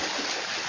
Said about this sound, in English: 142 hands swimming a triathlon.